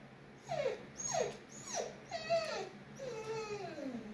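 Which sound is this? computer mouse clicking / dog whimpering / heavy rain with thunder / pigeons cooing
dog whimpering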